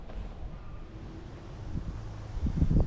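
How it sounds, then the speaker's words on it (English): Low, rumbling wind buffets the microphone in uneven gusts outdoors near a poultry coop, growing stronger toward the end, with no voices. "It's awful windy out here today."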